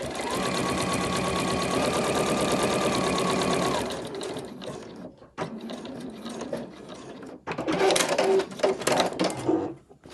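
A sewing machine stitches quilting lines across a fabric overlocker cover panel, running in a fast steady whir for about four seconds, then stopping and starting in shorter bursts with mechanical clicks.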